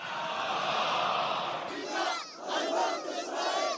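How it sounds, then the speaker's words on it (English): A massive protest crowd in Sana'a, Yemen: many voices chanting and shouting together in a loud, continuous roar, with rhythmic swells of the chant. "massive crowds coming out to denounce the strikes and to express solidarity with Gaza"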